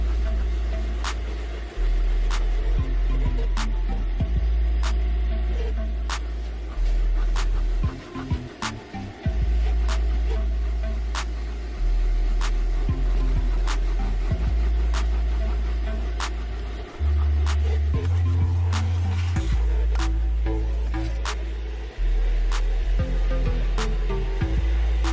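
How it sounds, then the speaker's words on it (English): A vacuum cleaner works through the carpeted interior of a rodent-infested Acura MDX. Its loud, steady droning whine shifts in pitch as the nozzle moves and gets blocked, with a brief sputtering break midway. "Just vacuum up anything that we find in the vehicle, including all of the mouse droppings."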